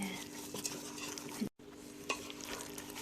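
Chicken wings being stirred in a vinegar marinade in a bowl, close wet squelching and scraping strokes with a few clinks against the bowl, quiet and with no talk, one brief dropout midway.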